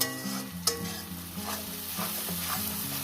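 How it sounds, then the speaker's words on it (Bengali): Ginger being sautéed with rohu fish-head dal masala in a pan, a continuous oily sizzle punctuated by scraping stirs and one sharp spatula clack, close and fairly loud with no talking. "আদা ছাঁচার পর আমি এটাকে আরও এক মিনিট কষিয়ে নেব"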